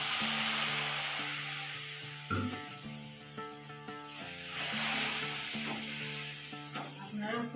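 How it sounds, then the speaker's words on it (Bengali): Spice paste with garam masala and a splash of water frying in a pan, a steady hiss and sizzle running throughout with scattered stirring scrapes and a soft tonal hum underneath. "জল দিয়ে মশলাটা কষিয়ে নেব।"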